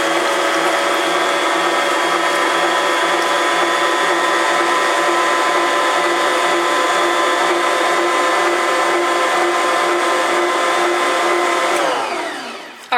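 A Bosch stand mixer stirs yeast dough with a steady, loud mechanical whir and gear drone that runs continuously for about twelve seconds before winding down abruptly.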